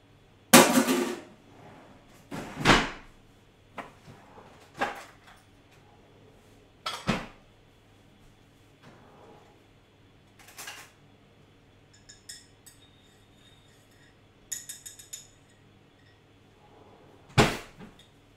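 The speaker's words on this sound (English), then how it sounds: "Just so you can hear the stirring." A spoon stirs sugar into a cup of tea, giving sharp ceramic clinks spaced several seconds apart with quiet scraping between them, close and without talk.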